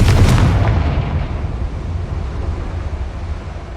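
Fiery explosion of the Confringo curse in Hogwarts Legacy, a loud booming blast at the start that decays into a long rumbling tail alone, without talk.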